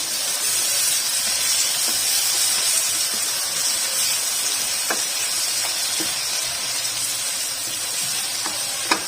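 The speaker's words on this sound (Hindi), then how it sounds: "प्याज ने कलर चेंज कर लिया, मैं इसमें टमाटर ऐड कर दूंगी, मिक्स कर लूंगी।" Tomatoes sizzling with frying onions in a pan for an egg masala curry, a steady hissing fry with occasional faint taps, no voices.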